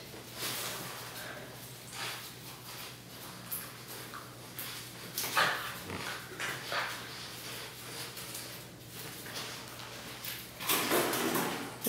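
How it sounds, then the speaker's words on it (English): Two puppies at play: scuffling, bumping and scrabbling noises with a few faint yips and whimpers, fairly close and continuous, no talking. "These might be possibly the two cutest puppies."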